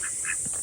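Ducks at a muddy pond being drained quack several times in quick succession, close and fairly loud over a steady background hiss.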